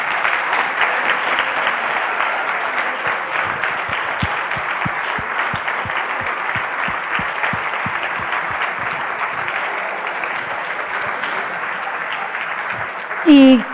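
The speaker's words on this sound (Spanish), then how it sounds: "un gran aplauso para las 4 investigadoras que nos han" An audience gives sustained, even applause for four researchers, the clapping filling the room at a steady level with a few sharper rhythmic claps in the middle and a brief voice at the very end.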